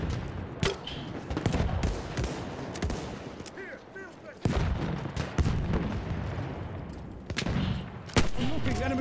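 Rapid machine gun bursts and scattered gunfire crackle throughout a Battlefield 1 multiplayer firefight, with booming shots and short pauses between volleys, while a voice talks over parts of the action.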